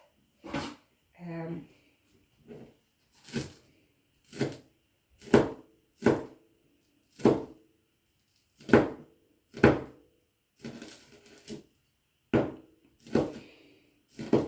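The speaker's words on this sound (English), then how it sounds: "we cut this into thin slices" Knife chopping vegetables into slices on a board for Japanese vegetable fritters, a series of about a dozen sharp, separate thunks at an uneven pace, close and fairly loud, with a brief voice near the start.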